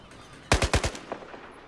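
Gunfire in the Battlefield 4 campaign: a rapid burst of four loud, close shots, followed by a few fainter trailing reports, with no talking.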